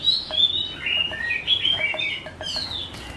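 Small songbird, a young masran bird, giving sharp, high chirps and short song phrases repeated in quick bursts. The bird sounds fairly close and carries over a steady soft background hiss.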